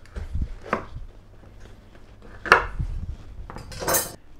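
A pumpkin being cut in half on a kitchen surface: a few sharp knife knocks and clattering strikes spaced over several seconds, close and fairly loud, with no talking.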